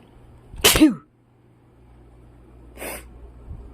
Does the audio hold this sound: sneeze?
yes